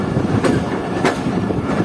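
A passenger train arrives at Sukkur railway station, its wheels rumbling steadily with a couple of sharp rail-joint clacks and a close, continuous roar; no voices.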